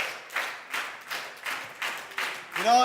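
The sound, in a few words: audience clapping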